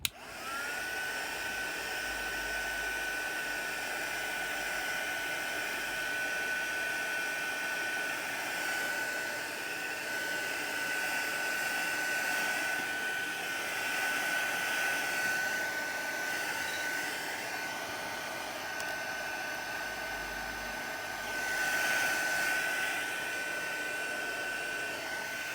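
A hair dryer blows steadily on wet paint on a homemade scrying mirror, a close, constant whirring hum with a high whine that holds for the whole stretch, slight shifts in tone as it moves.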